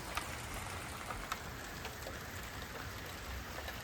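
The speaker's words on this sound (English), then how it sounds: "I'm just capturing the rain on camera." Steady rain falls in bright sunshine, making a dense, even hiss of drops on surfaces. It runs unbroken and fairly close throughout, with no voices.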